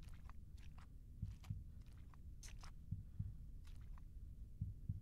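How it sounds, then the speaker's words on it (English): A heartbeat thumps in a dark, PT-inspired psychological horror game, soft paired low beats repeating at intervals, faint beneath a murky background hum with scattered higher rustles. "I have a heartbeat."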